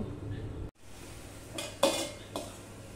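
A metal pot is covered with its lid while taro greens are set to boil, giving a few brief clanks and scrapes of metal on metal over a quiet kitchen background.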